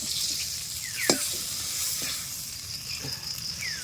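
Fish frying in oil in a pan set up in a garden, a continuous bubbling sizzle with sharp spits and pops, close and fairly quiet, no one talking.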